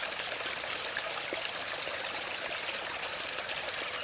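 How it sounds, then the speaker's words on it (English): Storm water runoff pours steadily into a pipe beside George Hill Road, a continuous close, rushing gurgle of flowing water with no talking. "Here's the water entering the pipe on the Poras side of George Hill Road."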